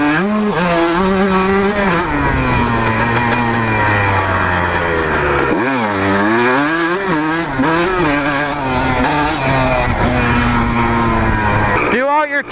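A two-stroke motorcycle engine revs and pulls steadily while riding, its pitch rising and falling in waves before a brief dip and recovery, loud and close throughout with a rider's voice occasionally over it.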